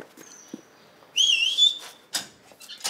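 A person whistles a short rising-and-falling tune, high and clear, lasting under a second amid quiet room sounds and a few soft knocks.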